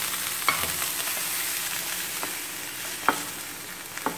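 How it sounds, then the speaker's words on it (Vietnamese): Glass noodles stir-fried with fresh bamboo shoots in a home pan give a steady close sizzle, with a few sharp scraping clicks from the utensil spread through it. "và mình xào miến luôn"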